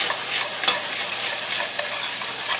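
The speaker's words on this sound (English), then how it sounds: "try to stir everything up" Creamy kielbasa and tortellini soup being stirred in a pot, a steady close hiss with a few light scrapes of the spoon.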